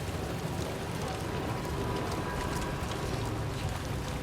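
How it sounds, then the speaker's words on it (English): Steady rain hisses in the video game Death Stranding 2: On the Beach, a dense, even wash of falling water that stays constant throughout with no distinct drops or talk. "This thing's probably going to be raining or snowing the whole time."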